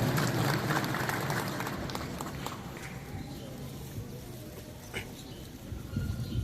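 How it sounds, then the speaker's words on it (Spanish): A crowd applauds Mexican senator Adolfo Gómez Hernández of Morena at a public gathering in Oaxaca. The clapping is dense and steady throughout, easing slightly midway and swelling again at the end. "Brindemos después un fuerte aplauso al senador Adolfo Gómez Hernández"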